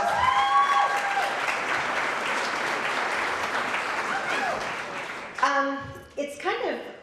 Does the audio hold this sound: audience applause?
yes